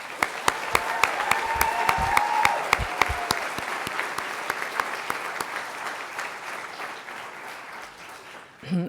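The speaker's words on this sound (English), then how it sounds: "Please give our graduating class a round of applause." Applause for a graduating class at a high school graduation ceremony fills a large hall, steady and sustained, with a voice briefly heard partway through before the clapping fades out.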